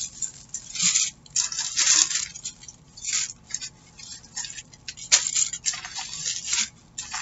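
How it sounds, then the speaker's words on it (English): Tissue paper is crinkled and handled up close, giving continuous papery rustling with sharper crackling surges throughout and no talk. "I've got so much tissue paper."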